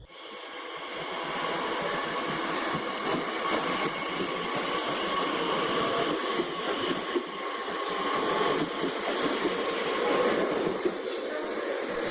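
A train runs through Lea Bridge station with a steady rumble and the clatter of wheels, mixed with faint squeals, heard from the platform at moderate distance.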